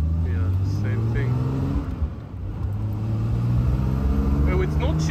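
A 1973 Triumph TR6 engine hums steadily from inside the car on a test drive, its pitch dipping briefly as a gear is shifted and then climbing again under continuous road noise.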